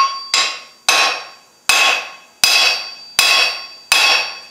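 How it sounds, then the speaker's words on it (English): Six sharp metallic ball peen hammer strikes on hot metal while forging tongs, at a steady, unhurried pace, each ringing briefly before the next blow, close and loud with no talking. "I start driving it down with the face of the hammer"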